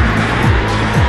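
Magnetically launched roller coaster cars accelerating from a standstill, heard as two loud, quick sweeping whooshes over a dense, roaring mechanical rumble.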